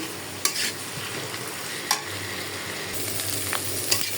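Bitter gourd with shrimp fries in a pan with a constant hiss of sizzling oil, punctuated by a few sharp scrapes and taps of a spatula stirring, close up and without speech.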